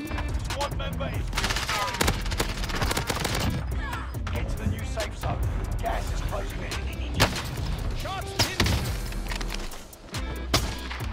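Dense automatic gunfire in a Warzone match, including an MP7 submachine gun, rattles almost without pause as bursts overlap, with loud sharp shots throughout and players talking over the action.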